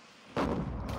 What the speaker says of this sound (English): So you've got a howitzer at one end and a howitzer at the other.